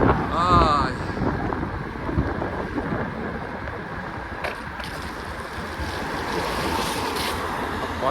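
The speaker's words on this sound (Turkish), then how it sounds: "fena bir su akıyor ya" Strong, steady rush of flowing water fills the whole clip, heard while riding an electric scooter, with broadband noise and some wind buffeting; a brief voice sounds near the start.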